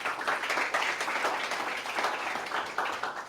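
Audience applause at a startup pitch event, for an angel investor: moderate, steady clapping from a small crowd that swells and dips slightly, continuous throughout.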